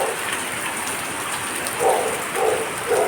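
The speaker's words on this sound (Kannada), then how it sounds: "ಒಂದು ಸಣ್ಣ ಮಳೆ ಬಂತೀಗ" A light night shower in Mangaluru outside a house gives a steady patter and hiss, with a few slightly louder bursts of drops near the end and no one speaking.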